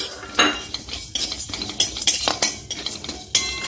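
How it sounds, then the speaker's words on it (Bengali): Whole spices are dry-roasted in an empty wok, stirred with a metal utensil that scrapes and clinks repeatedly against the pan in an uneven rhythm, close and fairly loud, with little sizzle. "খালি কড়াই মশলাটা ভেজে নেব"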